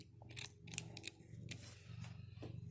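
Scissors snip away excess net from a sewn-in hair weave, a series of quiet, sharp cuts coming in irregular bursts close by.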